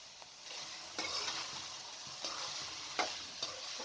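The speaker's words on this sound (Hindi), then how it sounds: "जैसे ही चीनी पिघल जाए बॉयल हुए चावलों को डाल दें" Boiled rice stirred into melted sugar in a pan, giving a soft continuous sizzle with a few scraping strokes of a spoon, quiet and close, with no voices.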